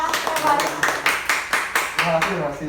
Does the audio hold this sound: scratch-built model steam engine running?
no